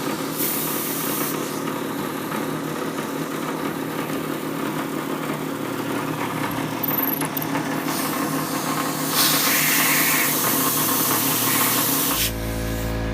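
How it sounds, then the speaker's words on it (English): A drill bores slowly into a hard rock maple piano pin block, a continuous grinding whine with a steady motor drone that shifts pitch briefly near the end. "We have the drill bit that is going at a very slow speed so it doesn't heat up inside the hole"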